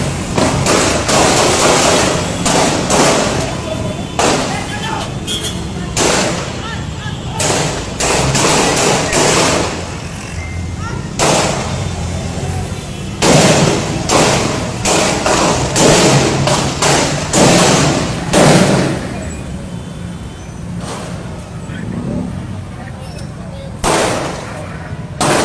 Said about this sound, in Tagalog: Medyo kanina pa po yung nagbabarilan,